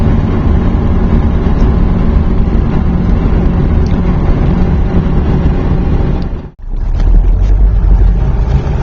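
A 1981 Mercedes 300CD turbo diesel coupe with a four-speed manual cruises in third gear at about 40 mph and 2,000 RPM. Its loud, steady diesel drone and road noise fill the cabin, broken by one brief dip near the end.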